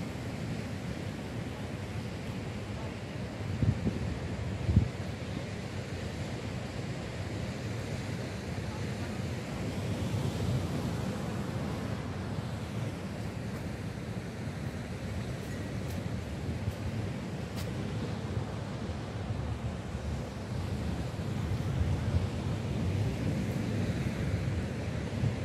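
Steady sea surf washes near a cosy seaside bar in Puerto de la Cruz, a continuous broadband roar of waves mixed with wind buffeting the microphone, with no clear voices.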